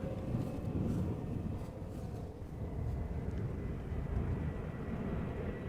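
EasyJet airliner arriving at Amsterdam Schiphol, a faint, distant low rumble of jet engines with gusty wind noise, steady and without talk.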